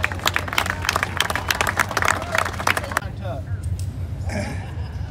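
Crowd applause and scattered clapping at an outdoor drag-racing event at Beech Bend Raceway, loud and dense for about three seconds before thinning out, with crowd noise and voices underneath.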